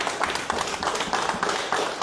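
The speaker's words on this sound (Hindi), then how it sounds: "जनाब इकबाल मलिक साहब, तालियों के साथ इस्तकबाल करें।" Audience applause at a BJP political gathering in Surankote, a brisk crowd of clapping hands with quick, uneven rhythm, fairly close and continuous.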